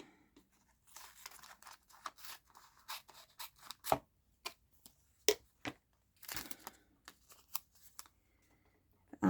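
Scissors cutting waxed paper for a craft project, a string of close, crisp snips and light crinkles at an uneven pace, heard alone with no talking.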